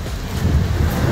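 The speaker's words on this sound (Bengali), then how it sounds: "দেখো খুব সুন্দর হাওয়া দিচ্ছে" A breeze blowing through a tree-lined seaside resort garden at Mandarmani, heard as a brief, steady low rush of wind buffeting the microphone.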